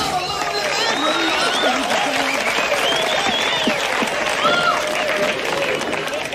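An audience claps loudly and continuously after Motown songs, with excited voices and calls mixed into the close, dense applause.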